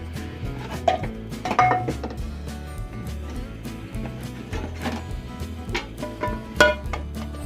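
Metal pan clanks and scrapes against other cookware as a frying pan is grabbed from a kitchen stack, with several sharp clinks and knocks over a steady low hum from a heating stovetop burner.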